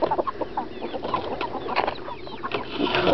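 A backyard flock of chickens, including a rooster, clucks and murmurs close by in a quick, irregular patter of short calls that grows a little louder toward the end.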